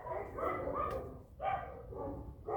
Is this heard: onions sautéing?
no